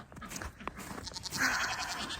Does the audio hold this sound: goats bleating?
yes